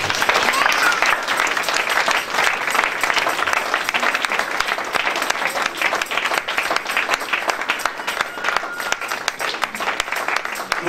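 A church congregation bursts into loud, sustained applause and clapping to acclaim God, a dense steady roar of hands lasting throughout with crowd voices mixed in.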